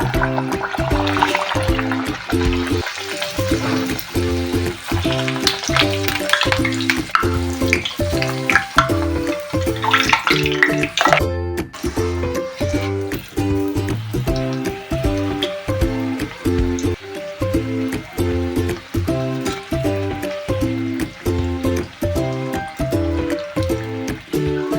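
Baby naan dough fries one piece at a time in hot white oil, giving a constant bubbling sizzle throughout under a louder rhythmic pulsing background.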